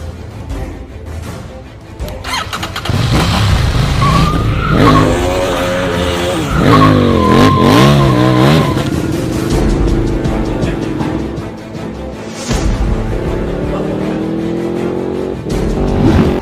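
A car being driven hard in a film scene, loud revving engine with long tire squeals and skids rising and falling, close and intense, with a brief burst midway.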